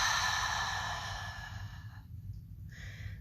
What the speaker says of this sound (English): And then breathing out through the mouth.